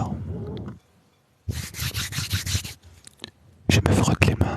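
Hands rubbed briskly together to warm them before a massage: a burst of dry, rhythmic friction strokes, a pause, then another quick series, close and fairly loud.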